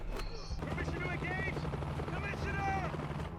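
A helicopter arrives in a scene from the TV show Titans, its steady low rotor thrum running throughout beneath loud action sounds and overlapping voices.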